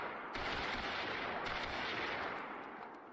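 A sniper rifle shot in the video game Totally Accurate Battlegrounds, a sharp loud blast whose heavy rumbling echo rolls on for about three seconds, with a second crack partway through the tail.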